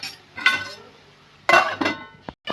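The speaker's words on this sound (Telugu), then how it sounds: "మూత పెట్టేసుకుందాం" A metal lid clatters onto a frying pan of sizzling chicken necks in a home kitchen. Several sharp, loud clinks and knocks come close together.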